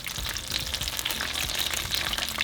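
Red jalapenos and garlic cloves fry in hot oil for a taco salsa, producing a dense, steady crackle and sizzle that continues on its own without pause.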